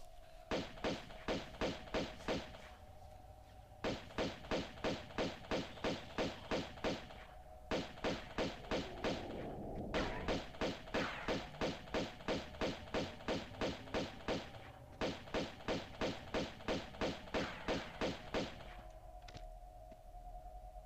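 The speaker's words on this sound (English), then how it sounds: "Sound of guns is doing my own head in" Rapid bursts of gunfire in the video game Tomb Raider II, firing in repeated volleys of evenly spaced shots with short pauses between bursts, steady and loud over a low background hum.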